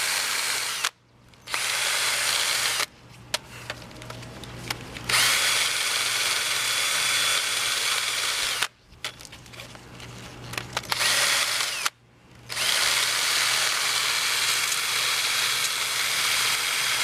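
Power tool cleaning rust off the front brake parts of a 2012 Fiat 500, a loud close whirring grind in several bursts separated by brief pauses, with no talking.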